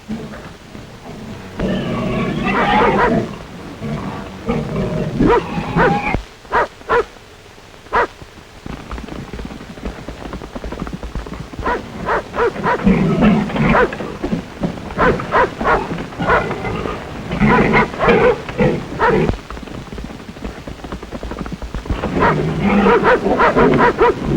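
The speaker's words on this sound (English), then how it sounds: "This wild boar has crippled many pups, and Rip faces almost certain death by closing in on him immediately" Rip the dog fights a wild boar, with repeated loud barks, snarls and growls in bursts of frantic animal noise and brief lulls between.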